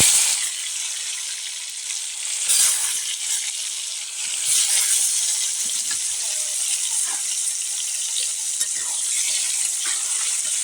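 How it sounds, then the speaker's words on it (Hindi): Fish pieces sizzle and fry steadily in hot mustard oil, a continuous bright crackling hiss that swells slightly at intervals with a few faint stirring sounds. "आप सिर्फ कड़वे तेल में ही फ्राई कीजिएगा"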